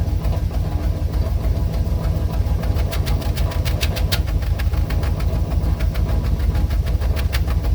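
A car engine on KITT runs steadily with a low, rapid pulsing exhaust throb, close and loud, with faint rhythmic ticking layered over the idle.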